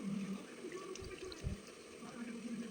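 Marinated chicken being washed under running tap water in a kitchen sink, a steady close splashing flow with brief heavier gushes, without speech.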